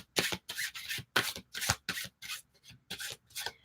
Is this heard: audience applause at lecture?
no